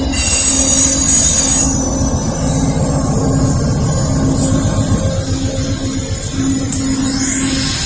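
An Amtrak Northeast Regional passenger train rumbles past close by in Lynchburg, its wheels letting out a loud, sustained metallic squeal over the steady clatter of the cars.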